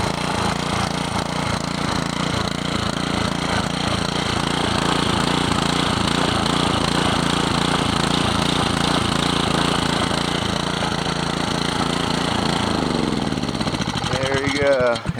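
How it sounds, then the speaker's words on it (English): A Honda GC160 160cc small engine runs steadily and loudly at a constant idle with a rhythmic putter, then sputters and winds down near the end as it runs out of fuel. "it runs for quite a while with just the fuel that's in the gas tank"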